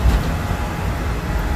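Vintage DKW car cruising at highway speed, a steady loud low engine and road rumble filling the cabin without pause.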